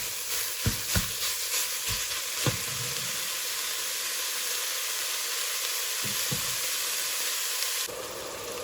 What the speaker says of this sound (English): I will now put this into the pot and we'll go ahead and brown it up.